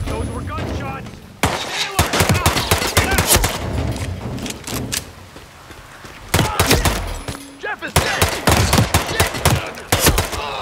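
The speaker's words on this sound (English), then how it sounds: "Those were gunshots." Gunfire in the video game Hitman 3 comes in dense bursts of rapid, loud shots separated by brief quieter gaps, with thuds and impacts mixed in.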